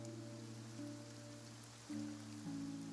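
Rain falling in a Genshin Impact cutscene, a faint, steady hiss of drops sitting low under sustained droning musical tones.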